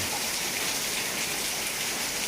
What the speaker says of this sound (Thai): ตอนนี้ฝนก็ตกอย่างต่อเนื่อง